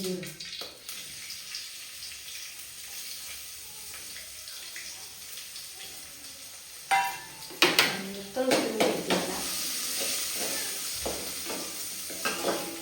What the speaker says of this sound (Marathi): पण अजून तिथे आपल्याला टाकते बघा आता लसूण